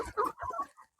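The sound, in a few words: chickens clucking on a small farm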